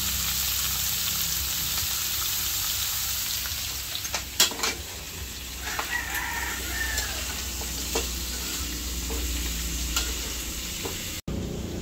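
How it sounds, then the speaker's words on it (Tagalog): Meat being sautéed in a pan, a steady close sizzle with intermittent clinks and scrapes of a utensil stirring, continuing without talk and ending abruptly. "Ginigisan na po ni RJ yung pong karne."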